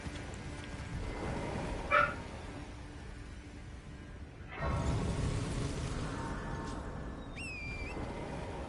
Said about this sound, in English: Sounds like the dogs are causing chaos.